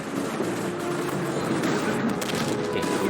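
Gunfire in the video game Resident Evil: Operation Raccoon City comes as a continuous rattle of rapid shots amid dense game noise.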